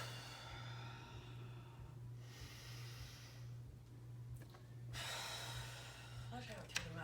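During gentle yoga, a long, soft breath is let out through the mouth, a quiet airy exhale set against a steady low hum, ending with a faint sharper sound.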